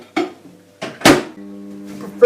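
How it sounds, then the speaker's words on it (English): A bowl of noodles goes into a microwave oven: a few distinct clunks and knocks of the door and dish, followed by a steady low hum as the oven starts running, with a voice heard briefly. "Now put this in the microwave."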